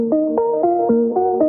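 Keys loop dropped a lower octave and processed with the Crystallizer effect plugin, playing a steady sequence of sustained chords with shimmering upper harmonics, changing about every quarter second, loud and alone with no voices.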